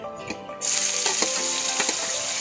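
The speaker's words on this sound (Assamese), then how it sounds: "এয়া পিঁয়াজখিনি ৰঙচুৱা হৈছে, এতিয়া মই ইয়াত আদা, নহৰু, জলকীয়াৰ পেষ্টখিনি দি দিম।" Ginger, garlic and green chili paste hits browned onions in a hot pan for a fish curry, bursting into a loud, steady sizzle that holds close and continuous after a brief quieter moment of frying.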